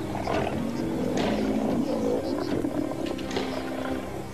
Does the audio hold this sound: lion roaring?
yes